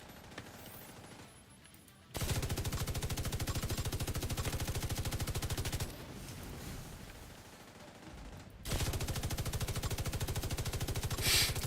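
Video-game gunfire plays in rapid automatic bursts, two long dense stretches of machine-gun fire separated by a quieter gap, fairly faint overall.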